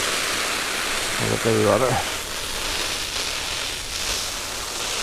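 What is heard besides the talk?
rain water running off a Jack Wolfskin Gossamer one-man tent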